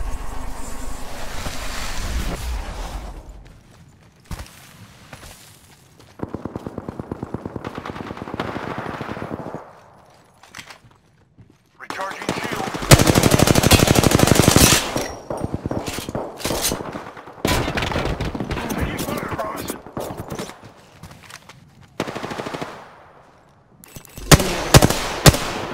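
Bursts of rapid gunfire crackle through an Apex Legends match, loud clusters of automatic shots broken by short gaps, some long sustained volleys, with no talking over them.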